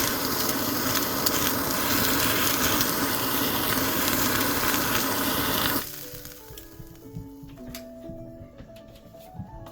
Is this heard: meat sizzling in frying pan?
yes